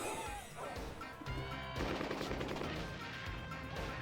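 Gunshots and crashes in the video game Crime Patrol, a few sharp blasts set against a loud, busy game soundtrack that runs throughout.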